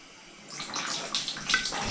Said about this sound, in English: I will use my flat screwdriver and start running water and push it down